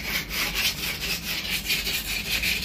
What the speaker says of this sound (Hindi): रेगमाल है, ये देखिए एम्ब्री पेपर जिसे बोलते हैं उससे करेंगे इसकी फिनिशिंग।